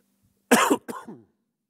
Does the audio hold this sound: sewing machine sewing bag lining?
no